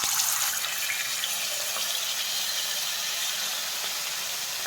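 Masala-coated fish fries in a pan with a steady, close, unbroken sizzle and hiss, with no talking.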